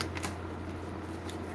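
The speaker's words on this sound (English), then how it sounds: "Couple more shuffles." Tarot cards being shuffled by hand in a quiet room, a couple of short crisp riffling bursts near the start and again near the end, soft and close, with no talk.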